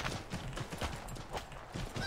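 Horse hooves clip-clop in Assassin's Creed III, a steady run of soft repeated hoofbeats at moderate volume, with faint game ambience around them.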